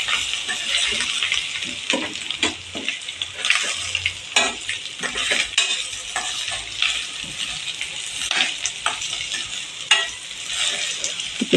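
Rice turns in hot oil in a pan for tondli bhaat, a steady loud sizzle running throughout with frequent scraping stirs of the spatula close by.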